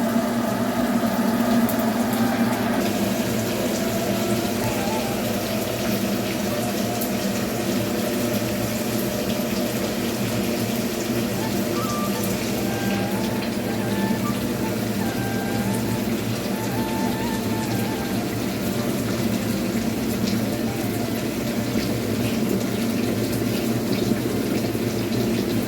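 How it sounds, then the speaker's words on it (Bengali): Hot water runs steadily from a water heater tap, a loud continuous rushing gush that barely changes for the whole stretch, heard up close with no voices. "গরম জল হয়ে গেছে, এবার বন্ধ হয়ে যাবে।"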